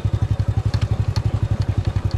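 An old motorcycle rides along a rural road, its single-cylinder engine thumping in a steady, rapid pulse, loud and close, with faint clatter over the top and no talking.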